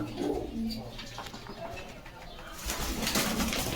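Pigeons coo in a low, soft, repeated murmur at a Bogura pigeon loft, close by and steady, with scattered chirps and a brief flutter of wings while people talk nearby.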